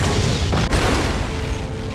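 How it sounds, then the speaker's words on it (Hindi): An explosion from a lit fuse blasting open a bunker hatch: a loud, dense boom that fills the whole clip, with a sharper burst partway through and a rumbling tail, with no voices. "धमाका होने से ठीक पहले जैक हर्ली को पकड़कर दूर कूद जाता है।"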